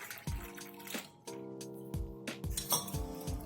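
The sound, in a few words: stirring sharbat and water in a glass with a spoon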